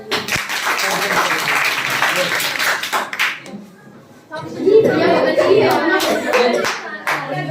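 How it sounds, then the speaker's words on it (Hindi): Schoolchildren in a classroom clap for a classmate, a dense burst of many hands with chatter and talking around it, pausing briefly before a second round of clapping mixed with voices. "ये देखो भाई अतुल के लिए ताली बजाओ"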